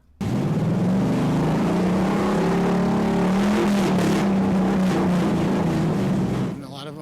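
A race car engine revs hard and loud right up close, a sustained roaring growl that rises and holds before cutting off abruptly.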